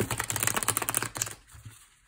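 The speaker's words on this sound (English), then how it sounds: "So today we're gonna shuffle on camera." A deck of tarot cards is shuffled by hand, giving a dense run of quick papery riffles and taps that then stop, leaving a quieter pause with a few soft handling sounds.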